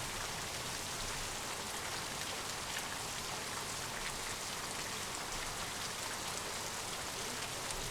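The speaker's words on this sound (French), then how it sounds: "On est toujours sous la pluie, à 8 nœuds." Steady rain falls in the Sailaway sailing video game, a dense, even hiss of drops on a surface that continues without break. It is fairly quiet and has no talking.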